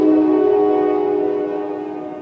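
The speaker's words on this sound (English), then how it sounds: "Sorry about the train." A passing train sounds its horn in one long, steady, loud blast that slowly fades, with no talking over it.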